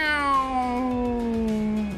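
A cat's meow, slowed down and drenched in echo, stretches into a long, falling, drawn-out wail that dominates the recording.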